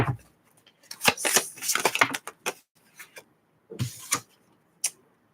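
Quick bursts of crisp papery flapping and riffling as tarot cards are shuffled, in uneven clusters with short pauses between them.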